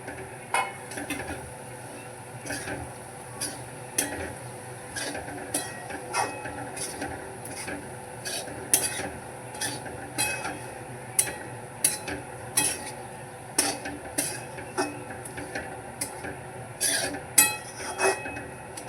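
Chapati poha, torn bits of leftover chapati, being stirred in a pan: repeated scraping and clinking of a spoon against metal at a steady uneven rhythm, close and moderately loud, over a faint background hum.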